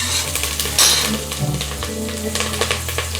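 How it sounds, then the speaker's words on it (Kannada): Mutton frying in oil in a pot for a Bangalore-style home curry, a steady close sizzle with scraping stirs and occasional light clinks of a utensil against the pan, no talk. "ಮಟನ್ ಆಯಿಲಲ್ಲಿ ಸ್ವಲ್ಪ ಫ್ರೈ ಮಾಡಿದ್ರೆ ರಾ ಸ್ಮೆಲ್ ಹೋಗುತ್ತೆ."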